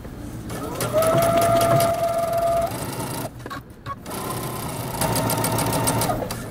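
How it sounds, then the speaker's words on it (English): Up close, a sewing machine stitches a jeans seam in steady buzzing runs. It starts, briefly stops and stitches back, then sews on with a pause in the middle and no talk over it. "go ahead and backstitch and then sew all the way up"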